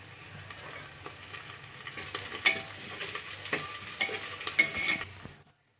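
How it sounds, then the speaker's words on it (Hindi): Biryani masala with curry leaves sizzling in a pan as it is stirred, a soft steady fry that grows busier with scraping strokes before stopping abruptly. "अब इसको मिलाऊंगी।"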